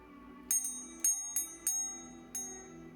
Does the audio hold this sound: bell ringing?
yes